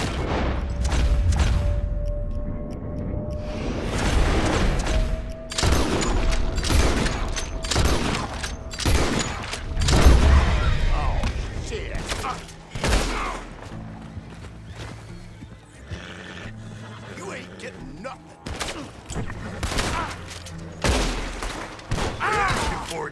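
Gunfire in Red Dead Redemption 2 mixed with horse neighs and clip-clopping hooves, sharp loud bursts of shots and booms scattered across the scene amid busy commotion.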